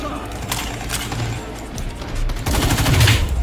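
Gunfire in the online shooter Battle Teams 2, rapid bursts of automatic shots crackling continuously and growing louder toward the end, with someone talking over the game sounds.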